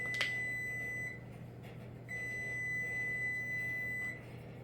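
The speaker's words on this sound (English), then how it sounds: "Timer going off." An oven timer goes off while peanut blossom cookies bake, giving a steady high electronic tone that sounds twice: first briefly, then for about two seconds. A low hum runs underneath.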